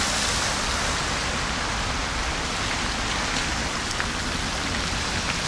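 Water splashes in a dense, continuous hiss from the world's longest set of fountains, about 1.4 kilometres long, in Bucharest, Romania, heard up close and steady with no voices.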